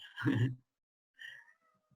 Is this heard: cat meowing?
yes